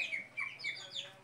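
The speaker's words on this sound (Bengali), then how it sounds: "এখন দেখো আমার মুরগির বাচ্চাগুলা" Small chicks cheep in a quick series of thin, high peeps, close by, with no talk over them.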